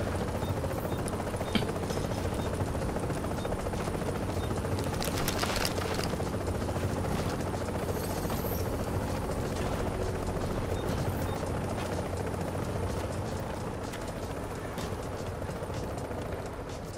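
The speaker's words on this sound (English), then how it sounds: "Chopper is inbound." A helicopter arriving in the video game The Division gives a continuous, fairly quiet rotor roar that holds steady the whole time with no talking.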